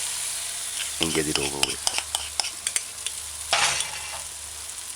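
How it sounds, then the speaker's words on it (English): Okra fritter batter sizzling and frying in hot oil, a steady close crackle with brief stirring clatter and a louder burst of spitting as more dough drops in, under a short stretch of talk. "you gotta put the fritters over the part that's already in the oil"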